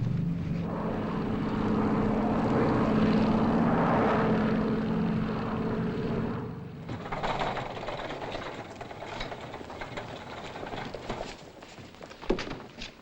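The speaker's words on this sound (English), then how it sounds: "We're in the landing pattern now." An airplane in the landing pattern drones steadily and fairly loud for about six seconds, then drops away into a rougher, fainter rumble with scattered rattles.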